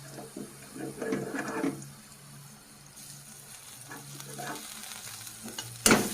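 Yard-long beans and shrimp fry in a pan with a steady soft sizzle while mustard paste goes in and gets stirred, with a few louder scraping bursts early on and a sharp clatter at the end.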